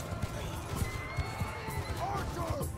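A horse whinnies amid battle noise in the video game Bannerlord, a faint rising neigh over steady rhythmic hoof clip-clops and a busy background din.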